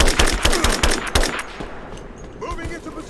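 Gunfire in Rise of the Tomb Raider: a loud burst of rapid shots in the first second and a half, then quieter scattered shots and echoes trailing off.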